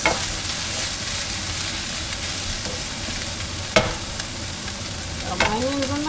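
Manwich sloppy joe sauce sizzles and crackles in a hot pan with onions, a steady loud frying hiss with a few sharp stirring scrapes and clinks, close up and without voices.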